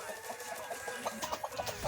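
Roosters crow and cluck in outdoor bush, a run of short, close, rhythmic calls filling the two seconds.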